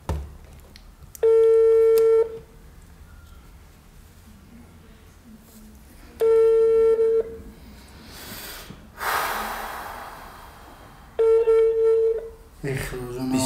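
A telephone call rings out unanswered: three long, loud ringback tones spaced about five seconds apart, with faint breathing and rustling between them.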